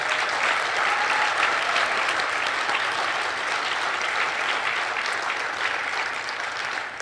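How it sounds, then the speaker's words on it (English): An awards audience gives a full, dense round of applause for the nominees, loud and sustained from start to finish with no voices over it. "Ladies and gentlemen, please join me in a round of applause for all the deserving nominees."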